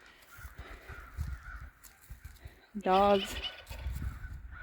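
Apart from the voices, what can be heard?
crows cawing, fighting with a hawk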